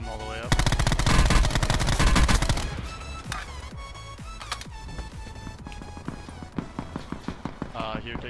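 Video game gunfire opens with a dense, loud automatic burst lasting a couple of seconds. It is followed by scattered single shots and distant game effects, with faint voices in the mix.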